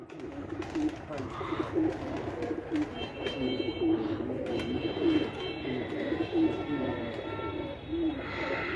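Teddy pigeons coo in low, repeated soft rolling phrases, close by and moderately quiet, while people talk over them and a faint beeping sits in the background.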